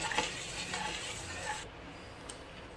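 Methi vada batter mixed with rava and ground masala goes into hot oil in a kadhai, producing a steady close sizzle and a few light scraping clicks from stirring.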